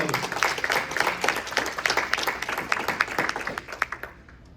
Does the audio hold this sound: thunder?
no